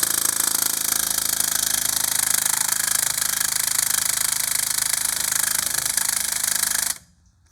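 A Ryobi impact wrench hammers continuously against a stuck 19mm lug nut, a dense, loud rattling buzz held steady for about seven seconds before stopping abruptly, with no one speaking.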